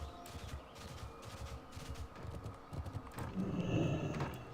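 Horse hooves clip-clop in a video game while the player rides, a steady, close, rhythmic clopping with a faint whinny-like tone toward the end and no speech.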